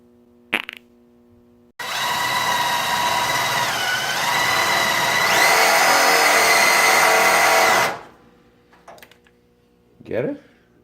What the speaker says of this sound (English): I'm gonna cut that rectangular tubing and make those little pieces.